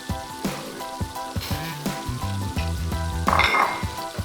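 Rice toasts for risotto in a pan with olive oil, onion and garlic, sizzling loudly while a utensil stirs and scrapes against the pan in uneven strokes.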